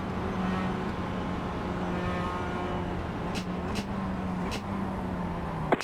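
Another car runs alongside in a racing video game, a steady engine drone with a sustained pitch line that shifts slightly, joined by a few sharp bursts near the end.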